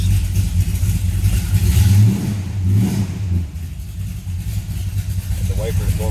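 A 1969 Plymouth GTX with a 440 V8, started and revved: loud, rumbling engine close by, rising and falling through throttle blips over a lumpy idle, with a person talking over it.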